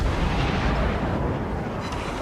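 Shell hits and explosions from the naval battle game World of Warships, with a Cleveland cruiser firing. A dense, continuous roar of booming impacts fills the clip, loud and rumbling throughout with no voices.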